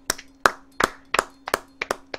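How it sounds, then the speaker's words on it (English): Applause for a cow race during a Christmas live stream: seven sharp, separate claps in an uneven rhythm, close and moderately quiet, with no voices. "A moment of applause for the cow race"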